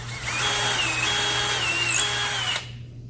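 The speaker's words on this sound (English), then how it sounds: "So now when I drill my holes" A power drill whines at high speed for about two and a half seconds, drilling holes, steady and close, then cuts off abruptly, leaving a low hum.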